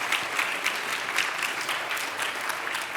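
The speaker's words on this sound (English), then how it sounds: "I think everyone should give Thomas a round of applause for that." An audience applauds after a masterclass talk on building purposeful brands, sustained even clapping filling the room at moderate volume.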